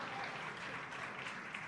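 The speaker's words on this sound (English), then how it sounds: "An eruption of applause here at SpaceX Mission Control." Applause erupts in SpaceX Mission Control after a Falcon 9 booster's first landing, a dense, steady wash of clapping and cheering from a room full of staff, heard fairly faintly throughout.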